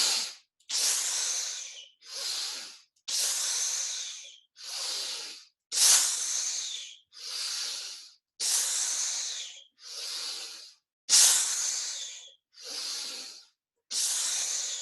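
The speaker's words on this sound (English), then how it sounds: "remembering to squeeze all that old air out on the exhale, we join together for the final triumphant 7" A group does forceful breathwork together, with loud, hissing breaths that squeeze the air out, repeating in a steady rhythm about a dozen times with short silent gaps between them.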